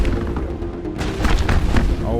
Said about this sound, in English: it's playing the sound like I'm firing my weapon